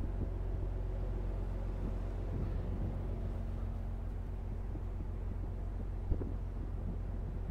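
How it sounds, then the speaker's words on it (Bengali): Gentle wind at sea on the deck of a moving ship blows softly against the microphone, a quiet steady rumbling hush mixed with low engine hum, no speech. "চারপাশে মৃদু বাতাস"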